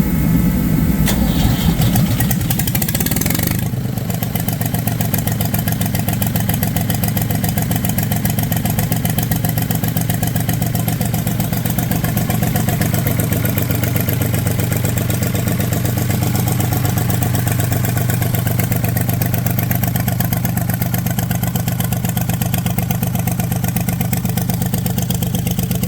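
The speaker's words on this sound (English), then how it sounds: "And then I agreed to go help James work on a tractor out in a shed in the cold." A large tractor engine cranks and fires up in a shed in extreme cold (minus 30), then settles into a steady, loud, rumbling idle that continues unbroken.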